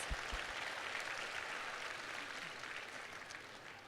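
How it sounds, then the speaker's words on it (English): A concert audience in a church hall gives a round of applause, steady clapping heard faint and somewhat distant, fading slightly toward the end. "Let's give each other a round of applause"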